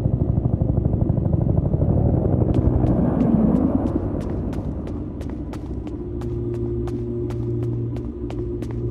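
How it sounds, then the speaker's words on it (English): A helicopter in the video game Peridium, a deep rumbling beat that grows and then settles into a steady whirring drone with regular sharp ticking pulses, fairly loud and continuous with no voices. "Is that the evac chopper?"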